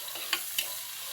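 Tomatoes and onions are stirred in a frying pan over a soft, steady sizzle, with two quick scraping strokes of the spoon.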